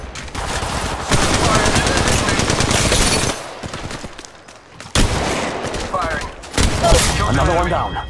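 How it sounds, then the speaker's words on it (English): Rapid automatic gunfire from a shooter match in Apex Legends Mobile, dense bursts crackling loudly almost throughout, with a brief lull midway and voices talking over parts of the firing. "Taking fire!"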